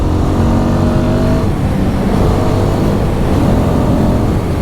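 A small single-cylinder motorcycle engine, the Royal Enfield Guerrilla 450's Sherpa 452, hums and revs steadily at close range, its throbbing note rising and falling slightly throughout.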